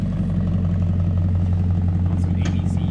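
Lowered Infiniti Q45 with an S13 front-end suspension swap sitting close by at idle, a steady low engine hum with faint clatter, brief sharper noises near the end.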